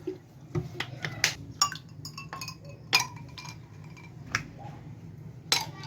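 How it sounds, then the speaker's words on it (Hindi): Ice cubes drop and clink against a glass of jamun sharbat, several sharp bright knocks at irregular intervals, close by, with soft talking faintly underneath. "ये देखें मैंने क्यूब डाली है इसमें,"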